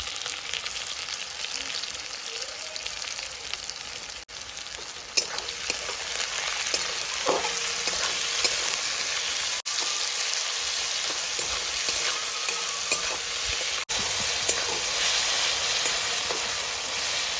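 Chopped onion with salt and whole cumin fries in a pan, making a loud, unbroken sizzle with a few faint clinks and stirring scrapes along the way.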